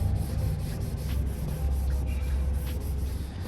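A scrub pad rubs gel shampoo into a car interior panel, giving a steady, close scratchy scrubbing with rhythmic strokes throughout, no talk.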